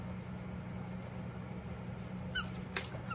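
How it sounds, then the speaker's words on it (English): A squeaky plush dog toy from a BarkBox Super Chewer box gives two or three short, high squeaks near the end, over a steady low room hum with no talking. "Oh, it squeaks."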